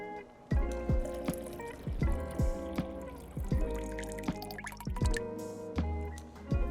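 Fresh squeezed lemon juice is poured into a metal cocktail tin, giving a run of close, bright drips and splashes with ringing metallic resonance, trickling in uneven bursts throughout.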